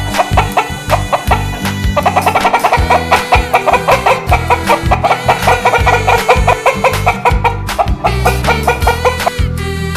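Chickens cluck busily in rapid, repeated bursts, close and fairly loud, with a rooster-like call mixed in and no talking.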